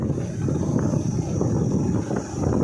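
An old-model motorbike engine held at steady revs, a continuous loud low roar with rising and falling throttle surges and wind rush over the full stretch, no talking.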